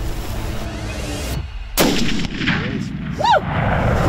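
A rifle shot cracks out loud and sharp while hunting springbok in Africa, a single abrupt blast with a brief ringing tail, set against steady outdoor ambience with a faint bird call afterward.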